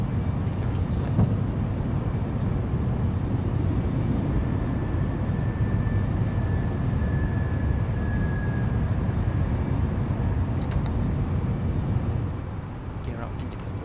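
Airbus A319 jet engines climbing after takeoff from Keflavik in a flight simulator, a steady broadband roar with a faint thin whine, loud and constant, easing slightly at the end.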